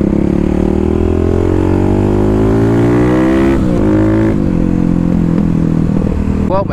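A supermoto motorcycle ridden on a damp road while practicing cornering, a loud close engine drone whose pitch rises steadily, eases off briefly, then climbs again.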